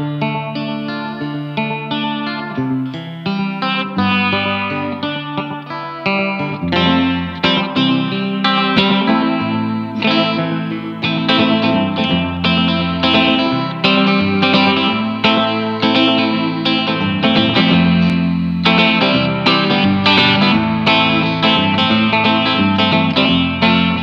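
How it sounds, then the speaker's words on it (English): Plucked twangy banjitar strings ring through a chorus pedal's vibrato setting, giving a wavering, slightly detuned tape-like shimmer over a steady chord-and-melody passage. "I like to use a vibrato setting to make it sound like an old tape"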